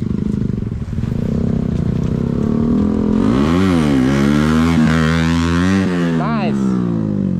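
Suzuki GSX-R and Yamaha R15 V4 sport motorcycles ride together, one pulling a wheelie, their engines droning loudly and steadily and then rising and falling in pitch through gear changes, close by with constant wind noise.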